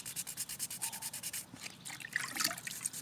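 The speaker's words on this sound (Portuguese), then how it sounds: "Acabamento com a lixa 320." Resin pyramid being sanded by hand with 320-grit sandpaper: close, rhythmic back-and-forth rasping strokes, evenly paced, then a looser scuffing passage near the end.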